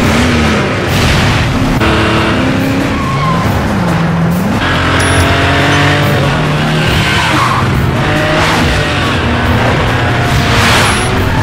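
Cars race with loud, repeated tire squeals sliding up and down in pitch over roaring engines, the screeching bursts overlapping continuously throughout.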